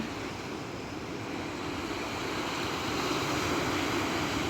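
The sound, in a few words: sea waves surf on the Black Sea coast, Odesa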